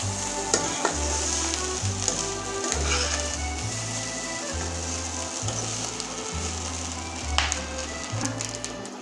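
Leftover day-old rice frying in ghee in a pan gives off a steady, close sizzle with scraping stir strokes in a regular rhythm and no voices.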